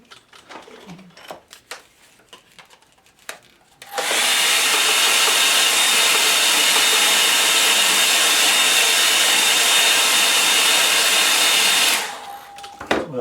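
A hair dryer blows on a line and wash sketch in a steady, loud, close whoosh lasting about eight seconds, preceded by quiet handling noises and followed by a few light taps.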